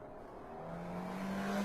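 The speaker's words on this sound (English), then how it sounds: "Car behind me got impatient." An impatient car approaches from behind a cyclist on a road, its engine building in a rising, steady roar as it draws close, with no voices.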